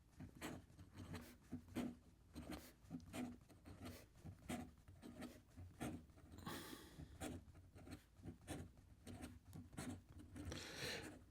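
A Scriveiner EDC fountain pen nib scratches across paper during fast writing, giving a steady run of quick, close, dry rasping strokes with short pauses and a couple of broader rubbing passes.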